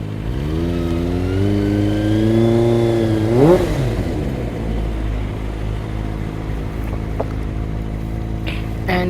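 A Kawasaki ZX25R inline-four motorcycle engine warming up revs loudly nearby, a rising, wavering whine that peaks sharply then falls back to a steady, busy high idle.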